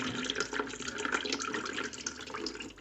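Water gushes steadily from a disconnected toilet supply hose during a leaking supply valve repair, a close, continuous splashing flow with no talking.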